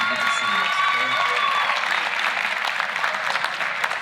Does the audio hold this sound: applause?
yes